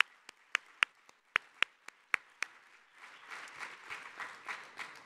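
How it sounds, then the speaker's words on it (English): Applause at a morning plenary session of an arts convention: a few sharp, separate claps ring out first, then a softer, fuller wave of audience clapping builds and continues to the end. "Let's give everybody another round of applause."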